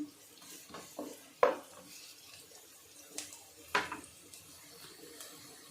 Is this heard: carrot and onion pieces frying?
yes